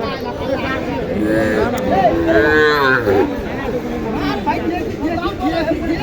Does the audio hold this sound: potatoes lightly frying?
no